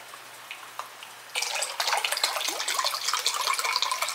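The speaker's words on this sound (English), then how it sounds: "Gonna pour it out like some champagne." Chicken broth poured out onto a table like champagne, a brief tap first, then a sudden splashing, gurgling stream of liquid that runs steadily and close by for several seconds.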